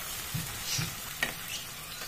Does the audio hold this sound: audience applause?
no